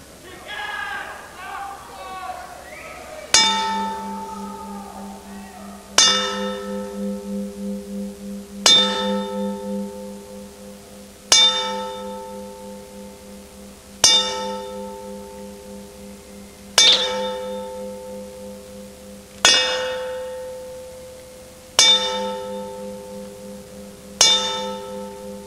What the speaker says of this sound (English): we will now toll a memorial 10 bells